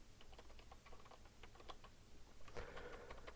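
Someone types a passphrase on a computer keyboard, with quick irregular key clicks, quiet and close, ending in a slightly louder burst of keystrokes, and no one speaking.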